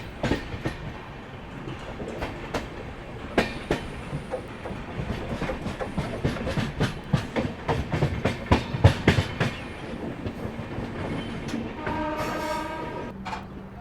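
A train pulling out of Rajpura Junction on the Amritsar Mumbai Express, wheels clacking in irregular bursts over rail joints, then a drawn-out horn near the end, heard from aboard without talk.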